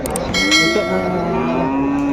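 A calf at a cattle market in Punganur lets out a long, drawn-out moo close by, steady and full, with faint bell-like clinks at the very start.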